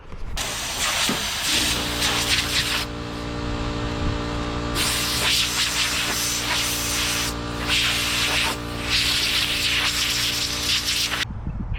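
Purple Power cleaner sprayed onto an abandoned old Ford, a 1962 Falcon or 1967 Galaxie, in loud continuous hissing bursts with short pauses, over a steady low engine hum.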